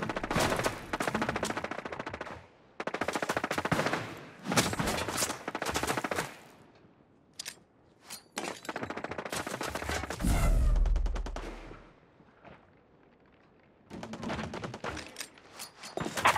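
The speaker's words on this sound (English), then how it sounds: "I hear gunfire." Bursts of rapid gunfire in a Tom Clancy's Ghost Recon Breakpoint PvP match crack out in several volleys, separated by short pauses, with a heavy low boom near the end.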